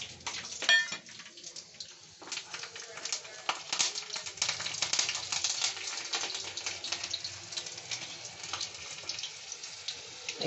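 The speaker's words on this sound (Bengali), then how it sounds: "এবার আমি এই ফোড়ন দেব, 2টো কাঁচা লঙ্কা, 5 ফোড়ন, একটা তেজপাতা" Green chillies, Bengali five-spice and a bay leaf dropped into hot oil for tempering, after fritters were fried in it. A bright, steady sizzle and hiss runs throughout, with a voice speaking over it.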